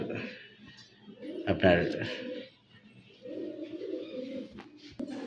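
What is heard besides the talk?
pigeons cooing, fancy pigeon pair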